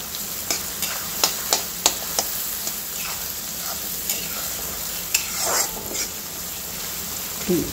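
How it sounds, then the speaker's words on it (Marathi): Chopped onion sautés in a pan for jowar ukadpendi, a soft steady sizzle broken by sharp spatula scrapes and taps at an irregular rhythm, close and clear with no talking. "आता इथे आपल्याला कांदा छान खमंग परतून घ्यायचा आहे, छान गोल्डन ब्राऊन होतपर्यंत"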